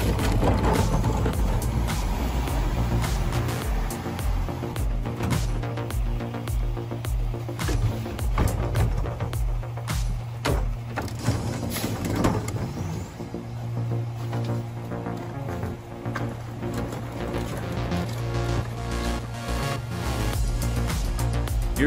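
A garbage truck's compactor crushes trash with heavy mechanical grinding, hydraulic whine and air-brake hisses, loud and close, running steadily throughout with no talking.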